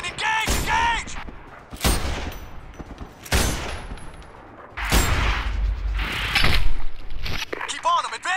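Close rapid gunfire during a firefight in the video game Sniper Ghost Warrior 2, several loud bursts of shots with mechanical clatter, interleaved with shouted radio-style voices between the volleys.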